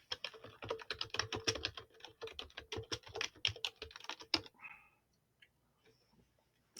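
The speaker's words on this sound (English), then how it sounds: "Let me type it." Fingers type quickly on a computer keyboard, a dense run of close, crisp key clicks for about four seconds before the tapping stops and near silence follows.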